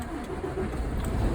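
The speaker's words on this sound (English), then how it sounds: "I'm going to start the truck and rebuild the air pressure" A semi truck's engine idles in the cab after starting, with a steady low diesel rumble and light mechanical clatter, close and continuous throughout.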